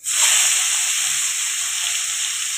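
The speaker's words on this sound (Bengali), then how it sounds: "এইবার ওই তেলের মধ্যে কিন্তু আমি পেঁয়াজগুলোকে ছেড়ে দেবো" A loud, sudden burst of hissing sizzle as onions hit hot oil, holding steady close up and easing slightly.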